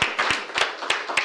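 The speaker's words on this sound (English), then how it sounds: "Clap it up for that, man." A few people clapping in a brief, uneven burst of sharp hand claps, close and fairly quiet.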